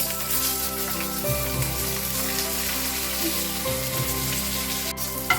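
A hilsa fish head fries in hot oil, sizzling and crackling steadily, a continuous close hiss with small pops throughout.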